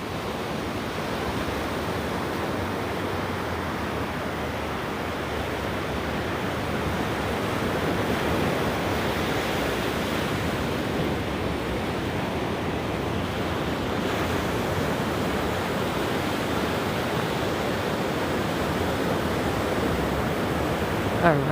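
Ocean waves at Mission Beach, San Diego, heard on a morning beach walk as a steady, broad wash of surf mixed with wind buffeting the microphone, rising slightly midway.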